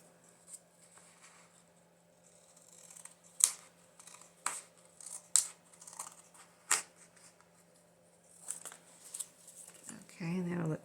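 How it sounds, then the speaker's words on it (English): Scissors snip paper for a junk journal, a handful of short, crisp cuts spaced a second or so apart, close and fairly quiet, with a rustle of paper being handled near the end. "Let me see if I can cut this also."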